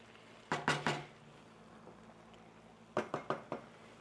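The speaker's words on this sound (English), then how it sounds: "We're just stirring everything up, making sure everything's cooked." Zucchini and squash stirred in a cooking pan: two quick bursts of three or four sharp utensil clinks and taps against the pan, fairly close, separated by a quiet pause.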